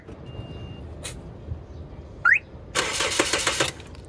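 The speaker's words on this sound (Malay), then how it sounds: "starter memang bunyi dengan kuat saja tapi enjin masih tak boleh hidup" A car starter cranks rapidly for about a second with a rhythmic churning whir, close and fairly loud, and the engine never catches.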